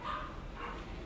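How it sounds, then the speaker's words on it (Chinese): A small dog at home yaps in a short, close burst of barks that fill the moment, with no talking over it. "因为小狗在闹"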